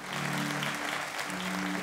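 An audience at a Romanian Christmas carol concert in Mediaș, 2017, claps steadily in a dense, continuous burst of applause, filling the hall without any voices on top.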